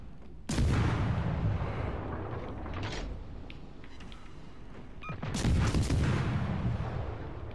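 Torpedoes strike ships in a naval warfare game, two heavy booming explosions about five seconds apart, each followed by a rumbling tail, with smaller thuds in between.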